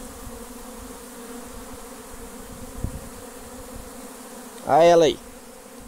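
Apis honey bees from a swarm buzz continuously while being captured from a tree stump, a dense, close hum throughout, with a man's brief spoken remark near the end.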